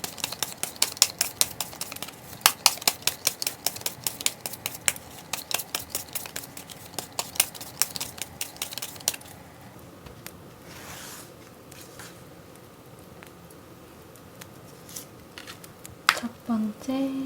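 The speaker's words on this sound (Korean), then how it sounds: "저는 카드를 섞어볼게요." Tarot cards being shuffled by hand, a dense run of crisp riffling flicks and soft slaps for about nine seconds, then quieter handling and faint rustling to the end.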